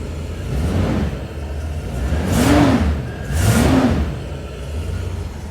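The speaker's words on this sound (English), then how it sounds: "I'm gonna give her a test fire, get her running" A 1969 Chrysler 300 engine runs with a steady low rumble, revved twice in quick succession so two loud surges swell and fade, fairly close with no talking.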